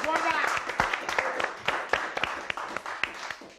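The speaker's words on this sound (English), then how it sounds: "Give a round of applause for Michael Boateng" Audience applause for a guest on a talk show, with scattered claps rising and fading over several seconds, fairly quiet and mixed with some chatter.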